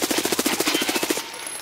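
Rapid automatic gunfire in Escape from Tarkov, a tight burst of about fifteen evenly spaced loud shots over roughly a second, then abrupt quiet with a faint ringing tail.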